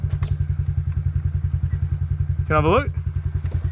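A Honda CRF50 fitted with a CRF88 big bore kit, its engine blown, chugs with a rapid, even low thumping close by, while someone briefly speaks over it.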